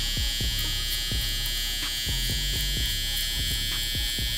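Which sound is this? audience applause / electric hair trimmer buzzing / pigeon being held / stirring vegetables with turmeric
electric hair trimmer buzzing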